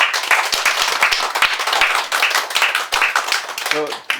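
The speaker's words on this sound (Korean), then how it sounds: "박수 한번 쳐주세요." An audience of children and parents from China, Russia and Mongolia claps together, with a brisk, dense burst of hand claps and some individual sharp claps standing out, close and loud with brief voices mixed in.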